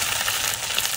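Chopped onion and chili hit hot oil for a Bengali water hyacinth fry, giving a loud, dense, continuous sizzle and crackle with no voices.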